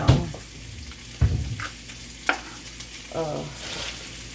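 Bacon frying in a pan gives a steady low sizzle, broken by a few sharp clatters and scrapes from turning the strips.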